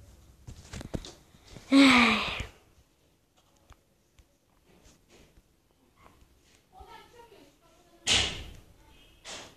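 A door slams shut with a loud thud, followed later by a second heavy bang, with quiet pauses and scattered speech and movement between them during a Minecraft play session.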